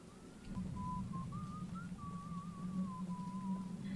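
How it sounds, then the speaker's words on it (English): In Choo-Choo Charles, someone whistles a wavering, meandering tune with sustained notes over a low steady hum, clear but moderately quiet. "I hear someone whistling."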